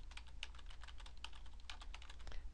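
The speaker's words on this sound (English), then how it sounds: "I'm going to click or press on the keyboard the opening square bracket" Typing on a computer keyboard while entering an Access database query, quiet rapid key clicks in an irregular rhythm over a faint background hum, no speech.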